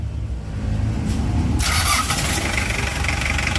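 A car engine is cranked during a charging-system check, with the starter grinding low before the engine catches and settles into a loud, steady, close idle.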